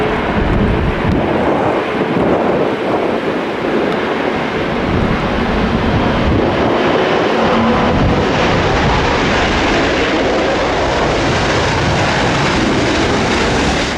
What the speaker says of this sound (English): This Airbus A380 landing in strong winds made a hard landing at London Heathrow.